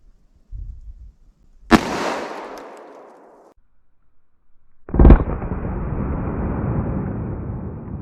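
Two loud .45 ACP Buffalo Bore gunshots outdoors, the second striking an ice jug, each a sharp blast followed by a decaying rumble, with a faint thump before the first.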